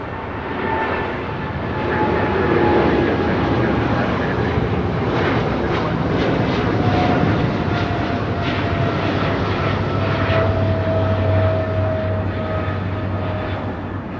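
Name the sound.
Korean Air Cargo Boeing 777 freighter taking off at LAX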